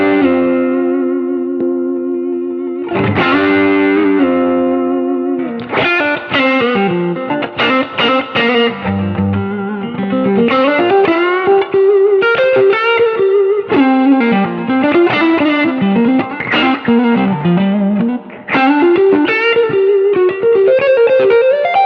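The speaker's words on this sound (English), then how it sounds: "with the King of Tone as a solo boost, sounds like this" Electric guitar solo played through a King of Tone overdrive pedal used as a boost, loud and sustained with driven, singing lead lines and bends running continuously.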